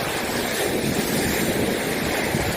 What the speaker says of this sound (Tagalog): Lakas talaga ng alon.